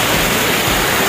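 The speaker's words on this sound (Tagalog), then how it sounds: "maririnig mo na yung agos ng tubig" Steady, dense rushing of water at Buruwisan Falls in Siniloan, Laguna, a constant broadband roar with no breaks, close and fairly loud throughout.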